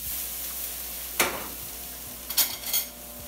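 Brussels sprouts sizzle steadily in a hot sauté pan, broken by a few sharp scrapes and clatters as they are tossed and stirred, close and fairly loud with no talking.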